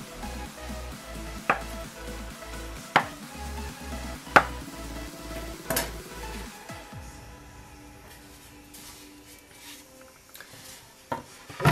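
A knife cuts homemade puff pastry dough into pieces for pies with four or five sharp, distinct chops spaced evenly about a second and a half apart, followed by quieter handling noises and a final couple of taps.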